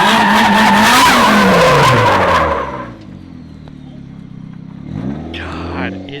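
Nissan S13 with an SR engine skidding, a loud tire squeal and revving engine for about three seconds, then dropping to a low idle before revving again, with voices nearby.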